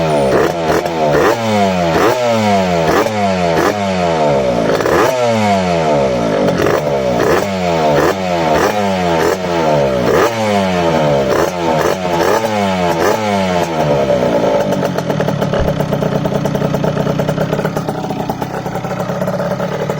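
Rieju RR 85cc two-stroke motorcycle running on a 4% oil mix, its engine revving loudly in repeated rising bursts that climb and drop, then settling into a steady higher drone near the end.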